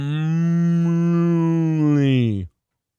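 A voice imitates a cow mooing, sustained and loud for over two seconds with a rising, strained finish before cutting off abruptly.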